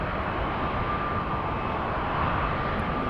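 An Atlas Air Boeing 747 at Amsterdam Schiphol Airport gives off a steady, broadband jet engine roar, even and distant, with no voices over it.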